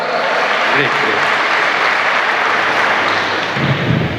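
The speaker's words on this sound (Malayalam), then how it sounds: "ഇവർക്ക് രണ്ടുപേർക്ക് നല്ലൊരു കൈയടി കൊടുക്കാം" A conference audience claps for a couple in a loud, sustained round of applause that fills the whole stretch, dense and steady from start to finish.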